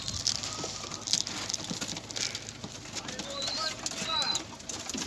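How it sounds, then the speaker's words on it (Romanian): Pigeons gathering at food and water in a loft, soft cooing and fluttering mixed with light pattering over steady background noise, and a person talking faintly nearby. "Deci, priviți, porumbei a venit la mâncare și la apă."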